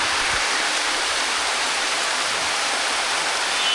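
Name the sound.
heavy rain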